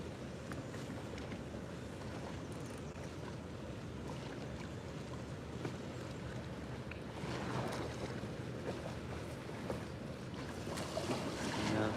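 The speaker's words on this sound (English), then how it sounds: "Yeah, I love that water sound." Water lapping and sloshing around a boat while fishing, a steady broadband wash with occasional splashes, close and moderately loud, with wind in the background.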